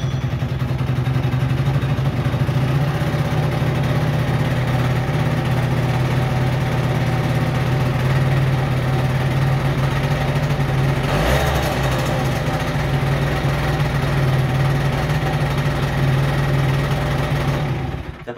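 A scooter engine with its carburetor being adjusted runs steadily close by, a constant buzzing drone that holds level throughout with one brief rougher burst partway through.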